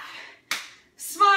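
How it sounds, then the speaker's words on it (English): Quick hand claps during a core fitness class, a single sharp clap followed by a softer clap-like burst within about a second, close and crisp. "Clap."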